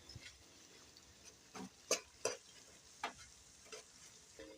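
A spoon stirs garlic chutney into cooked tomatoes in a pan, making several distinct scraping clacks against the pan over a faint sizzle, spaced irregularly and close by.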